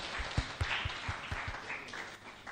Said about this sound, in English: That, yes, clap for that.